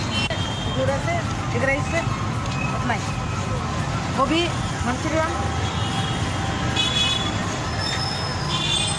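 Roadside traffic at a signal rumbles steadily with horn toots and passing engines, loud and close, while people talk over the noise.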